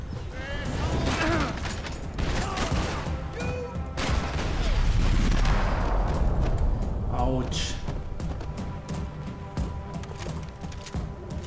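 Bursts of AK rifle fire ring out during a hard-mode firefight in the PC game Max Payne 3, loud and dense over a busy backdrop of crashes and impacts, steady for most of the stretch and easing toward the end.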